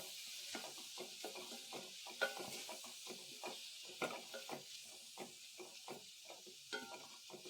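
Tomatoes fry in a pan for a raw fig dish, a quiet sizzle broken by repeated scraping stirs of a spatula, close and rhythmic, with no speech.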